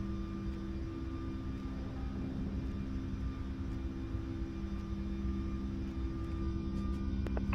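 A Boeing 757 airliner climbing after takeoff, heard from the cockpit as a steady, loud, droning engine roar with constant tones, unbroken and without talk.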